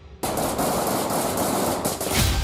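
A sniper rifle fires at a radar on the Israel–Lebanon border, with a sudden burst of loud, dense gunfire that carries on steadily and close for a couple of seconds.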